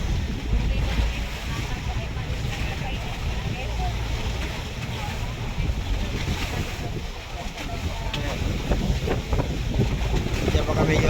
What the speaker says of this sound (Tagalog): Kaya lalaki ng alon guys.